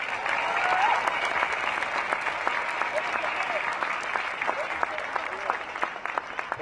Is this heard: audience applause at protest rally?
yes